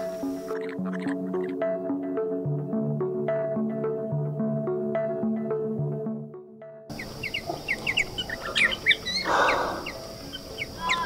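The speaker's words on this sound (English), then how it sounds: "Whole bunch of Malga parrots coming in, looking quite nice on that perch" Mulga parrots and spiny-cheeked honeyeaters call at a perch in the Outback, bright chirps and warbling notes over a steady tonal background, with sharper scattered calls after a sudden shift in the ambience.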